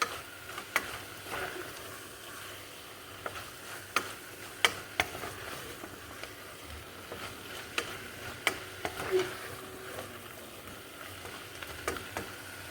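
Mixed vegetables, including potato, are stirred in a pot for pulao, with a spoon scraping and clacking in irregular sharp knocks over a soft low sizzle, close and alone with no talk.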